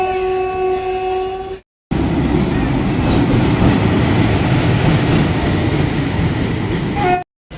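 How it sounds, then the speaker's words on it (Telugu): A train rolls loudly past at a station platform, its dense rumble and rattle filling several seconds after a sustained horn-like tone at the start, then cutting off abruptly. "ఇక్కడ ఇంకో ట్రైన్ కానీ వస్తుంది"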